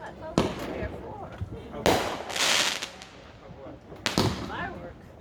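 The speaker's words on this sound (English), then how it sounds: "Fireworks." Fireworks bursting over a lake at a 2020 display: three loud, booming explosions spaced a couple of seconds apart with crackling tails, while people talk in the background between bursts.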